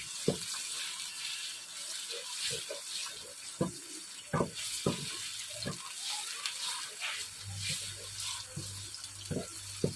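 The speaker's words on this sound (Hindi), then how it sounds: "इसमें मैं पेस्ट शामिल कर देती हूँ लहसुन अदरक का। इसे थोड़ा सा भून लेते हैं।" Garlic ginger paste fries in hot oil in a pan with a steady, quiet sizzle and scattered sharp pops and crackles. A low hum creeps in toward the end.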